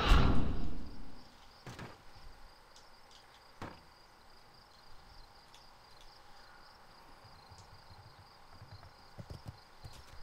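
Horse hooves clip-clop at a gallop in World of Warcraft, a quick rhythmic patter of game footfalls that stays fairly faint after a louder opening burst, with a few sharper thuds along the way.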